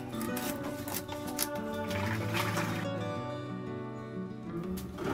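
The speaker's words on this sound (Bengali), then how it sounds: "এখন মাছগুলোকে ধুয়ে নেওয়া হবে" Ring-cut pieces of rohu fish are washed by hand in water, with continuous sloshing, rubbing and trickling close by and a faint hum behind.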